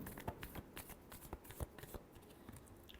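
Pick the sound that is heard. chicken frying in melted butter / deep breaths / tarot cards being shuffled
tarot cards being shuffled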